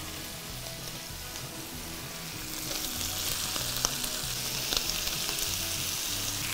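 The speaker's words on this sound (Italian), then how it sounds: "si vanno ad aggiungere le cipolle" Onions sizzle in a pan with browned beef for a steak and ale pie filling, giving a steady, close frying hiss on its own that grows slightly louder partway through, with a few faint stirring clicks.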